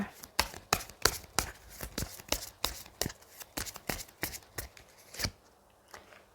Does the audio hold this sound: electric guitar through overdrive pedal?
no